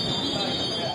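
A train in 2015 carrying migrants from Austria to Germany gives a brief, continuous rail rumble with a high wheel squeal running steadily over it.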